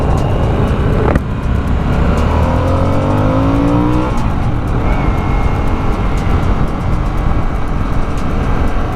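A Sportster S motorcycle accelerates hard on an interstate, a loud, close engine roar rising in pitch through the gears over heavy wind rush.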